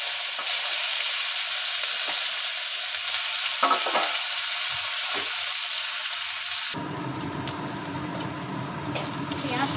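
Chopped onion and nigella seeds sizzle loudly in hot oil left over from frying fish, a steady crackle that shifts and softens partway through as the pan is stirred.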